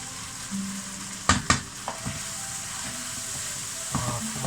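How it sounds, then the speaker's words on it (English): Spring onions tossed into chicken lo mein frying in a pan: a steady close sizzle with a couple of sharp clatters and scrapes of utensils against the pan, no talk. "now I'm going to whack in the spring onions"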